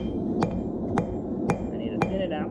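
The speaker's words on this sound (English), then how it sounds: "I've been hammering on this thing for a few days." A hammer strikes hot metal on an anvil while a leaf is forged, five sharp ringing blows at an even, roughly half-second rhythm over a loud roaring background.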